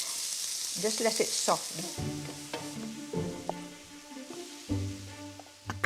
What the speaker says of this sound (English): splash in some olive oil, and we're ready to stir-fry the veg